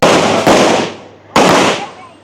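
Two loud firecracker blasts burst close by in a village street, each with a sharp onset and a fading crackling tail, the second coming after a brief pause.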